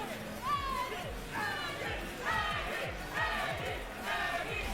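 At the Combo Breaker 2025 fighting game tournament, during a Tekken match, a crowd cheers and chants in repeated rising waves while close commentary talks over it.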